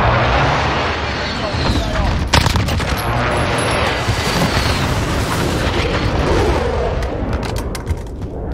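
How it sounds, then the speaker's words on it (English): Precision airstrike explosions in Modern Warfare Team Deathmatch, a loud sustained barrage of booming blasts and gunfire, with crackling bursts throughout and a radio-style voice in the mix. "Friendly precision airstrike is inbound."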